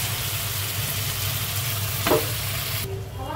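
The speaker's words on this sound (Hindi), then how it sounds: "अब हम इसमें डाल देंगे हमारे पास्ता।" Pasta tossed into a pan of masala, steady loud sizzling frying with a brief scrape of stirring near the end, no voices.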